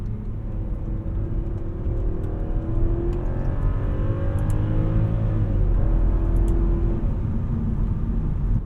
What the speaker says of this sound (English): Yeah, the downshifts are pretty slow if you try to kind of drive it like that.